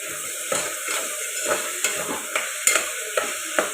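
A peas and tomato curry frying in a pan after salt is stirred in, a soft steady sizzle broken by regular spoon scrapes and light taps against the pan, close and without talk.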